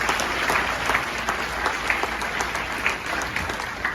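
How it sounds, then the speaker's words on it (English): An audience at a live conference and expo claps in a steady, dense burst of applause lasting several seconds, with no talk over it. "can we do a big round of applause for my introducer?"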